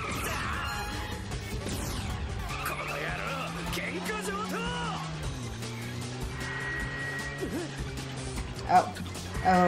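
Animated cars skid and screech in a cartoon car fight, with long tire squeals and engine whines sweeping through, a short crash-like thump near the end, and people talking loudly over the action.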